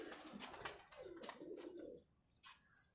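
Red-tailed pigeons from Ustad Malik Younus's line coo softly in a few low, rolling phrases, with faint rustling and clicks around them, fairly quiet and near.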